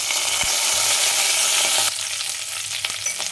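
Mustard seeds and cumin fry in hot oil for a cucumber curry, giving a loud, steady sizzle with a few crackles. The sizzle drops slightly in level partway through and carries on without any voices.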